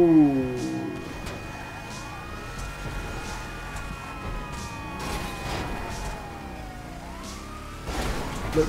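Several wailing police sirens in the GTA 5 Online video game, sweeping up and down in overlapping tones over engine rumble and traffic noise, fairly close and continuous, with a voice speaking briefly.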